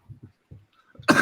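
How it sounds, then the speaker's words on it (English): A person gives a short run of several quiet, dry coughs close up, separated by brief pauses, followed by a sudden louder burst of noise at the end. "I'm coughing."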